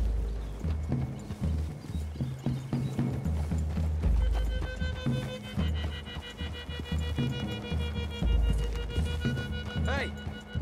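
Horses galloping through woodland in the Red Dead Redemption 2 video game, steady rhythmic hoofbeats and clip-clop close by with an occasional whinny, mixed with game music and ambient sound throughout.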